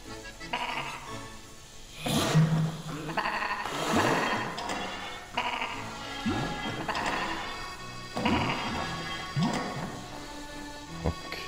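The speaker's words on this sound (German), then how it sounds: "Blöde Schafe." Sheep in the video game Escape Plan give several loud bleats, mixed with crashing and thwacking game effects, across a busy stretch.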